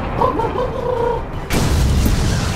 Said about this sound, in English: What's that explosion?